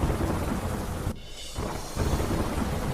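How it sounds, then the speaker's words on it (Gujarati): Dense, heavy rain roars across rural Surat in Gujarat, with a low thundery rumble underneath; the wash of sound briefly drops away for a moment before returning at full strength. "બારડોલી, મહુવા, પલસાણાના ગ્રામ્ય વિસ્તારમાં પડ્યો વરસાદ"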